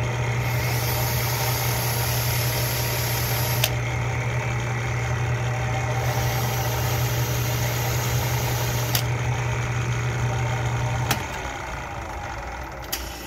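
A Scotch-Brite wheel cleans the burr off a nickel-headed rivet, giving a steady motorized hum with a constant tone. The whir runs evenly, then cuts off near the end and leaves a softer background.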